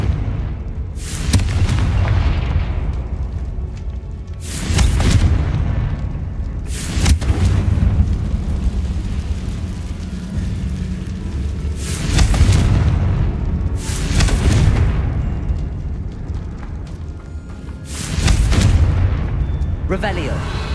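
Fire spell blasts go off again and again in the Hogwarts Legacy video game, heavy booming bursts every few seconds with a roaring rumble between them, while a voice speaks in the middle.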